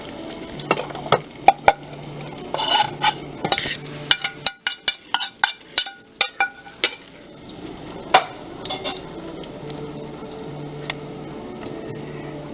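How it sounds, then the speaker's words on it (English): Onion, pepper and curry seasoning fry in a pan for a Guyanese catfish curry, a soft continuous sizzle broken by repeated sharp scrapes and clinks of a utensil stirring against the pan, close by and with no talk. "We're gonna go and fry this up nice, at least for 2 minutes."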